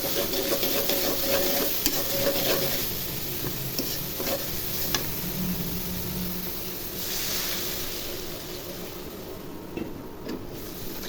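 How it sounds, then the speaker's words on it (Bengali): Prawn masala being stirred in a pan after water is added, with a continuous close sizzle and bubbling under repeated spoon scrapes, steady and without speech. "মশলা ভাজা ভাজা হয়ে গেছে এখন পরিমাণ মতো পানি দিয়ে দিব"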